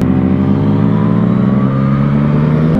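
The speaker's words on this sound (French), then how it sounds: "T'as regardé comment il déboule lui avec sa Mustang" A Ford Mustang on a road roars close by with a loud, steady engine drone that holds for a few seconds and then cuts off abruptly.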